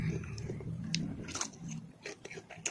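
Crunchy bites into crispy fried chicken feet coated in cheese, a few close crackling crunches and chewing sounds, quiet and near, with faint murmured voice in the background.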